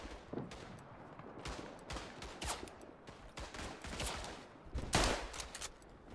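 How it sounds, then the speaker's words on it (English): Martini-Henry rifle fire rings out in the Tannenberg shooter game: a few scattered, sharp reports at varying distances, the loudest close by near the end, over a rumbling battlefield background. "I hear a Martini Henry somewhere around here."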